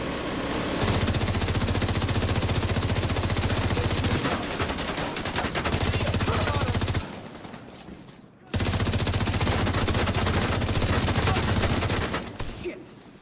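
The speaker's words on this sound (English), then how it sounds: "fuck off, minigun" Minigun in The Division 2 firing in long continuous bursts, a loud dense mechanical roar that runs for several seconds, cuts out briefly, then resumes before trailing off, with game combat around it.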